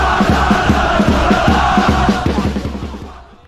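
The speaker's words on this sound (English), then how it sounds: "that's not going to stop the Ultras from cheering their loudest" Ultras at a local-rivalry football match between SC Helos and Emu Plains cheer loudly, a dense crowd roar with rhythmic chanting and drum-like thumps that fade out toward the end.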